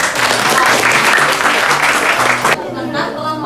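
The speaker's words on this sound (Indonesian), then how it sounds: "Tepuk tangan dulu." Classroom of students applauding for a group, dense steady clapping that stops abruptly partway, with a voice speaking over it close by.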